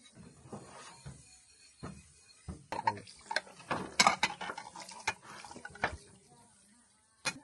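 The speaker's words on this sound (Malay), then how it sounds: "Aku akan cuci pinggan" Dishes and cutlery clink and clatter in irregular bursts close by, with a brief trickle of water now and then.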